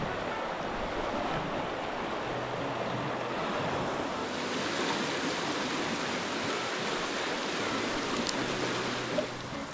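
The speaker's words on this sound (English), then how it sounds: "So there's some fast water and it kind of comes into this back eddy." Fast-flowing river water on the Oregon coast rushes steadily into a back eddy, a dense broadband roar that holds even and loud throughout, close to the bank with no voices.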